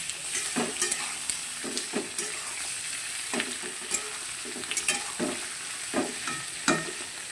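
Shrimp frying in a pan over lightly fried onions, a steady close sizzle broken by repeated scraping and stirring strokes, with no voices.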